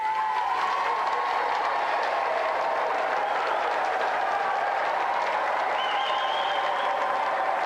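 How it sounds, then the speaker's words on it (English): A television game show studio audience applauds with a steady, dense wash of clapping and some cheering that carries on for the whole stretch, while a voice and a tone sound over it. "Round of applause for Kathy Dennis."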